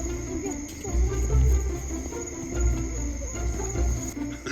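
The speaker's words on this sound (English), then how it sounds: "I heard the tree frog, guys" A tree frog calls in the Everglades among a dense, steady chorus of outdoor night creatures, a continuous high shrill over low rumbling background.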